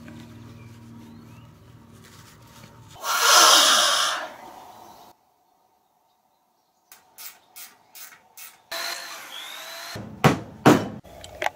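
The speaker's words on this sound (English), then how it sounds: "Inside, there are groups of steel wire, so cutting with the angle grinder is the only option." An angle grinder cuts through a rubber conveyor belt reinforced with groups of steel wire, heard as one loud, broad rasping burst, then a silent gap, a run of short sharp cuts and further rough grinding bursts.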